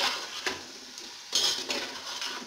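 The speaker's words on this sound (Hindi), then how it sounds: "इसको मैंने अच्छे से भूनना है" Chicken for biryani is stir-fried in a pan, with soft scraping strokes of a spatula and occasional louder stirring bursts over a faint low sizzle, heard close and quiet.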